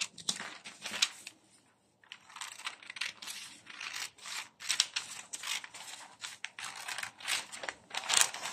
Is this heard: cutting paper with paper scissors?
yes